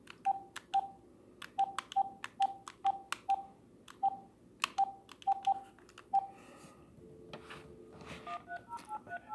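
Home telephone keypad dialing tones: about a dozen short, evenly spaced beeps at close range, followed by quieter ringing or line tones toward the end, with no talking.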